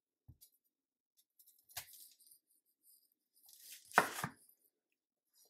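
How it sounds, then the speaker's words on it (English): A knife halves onions for a pot roast. It makes a couple of isolated crisp, crunchy cuts, one near the start and a louder pair later, separated by near silence. "We're just going to cut it down the middle."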